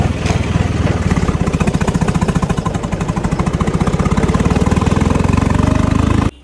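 A John Deere tractor with a big U-shaped exhaust pipe fires up and runs, a loud, close, rapidly pulsing diesel thump that holds steady before cutting off abruptly at the end.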